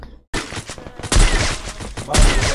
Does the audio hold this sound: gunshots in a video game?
yes